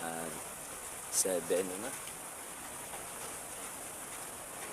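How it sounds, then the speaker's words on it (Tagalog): Steady rain falling outdoors during a typhoon, a constant soft hiss throughout, with a person briefly talking near the start over it. "Ulan, no?"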